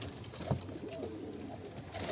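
A small caught bird, apparently a pigeon or dove, gives a brief low coo over quiet background noise, faint and close, with no talk.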